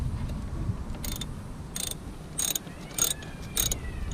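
A wrench loosening a Nissan Micra battery terminal gives a series of sharp metallic ratcheting clicks in short, evenly spaced bursts, close by, over a low background hum.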